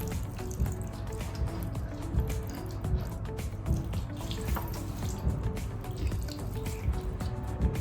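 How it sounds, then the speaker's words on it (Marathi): Water is poured over an idol of Chhatrapati Shivaji Maharaj for a ritual washing at home, a close, soft, steady trickle and splash of flowing water with small drips, continuing without a break. "पहिल्यांदा आपण आता पाण्याने अभिषेक करतोय महाराजांना."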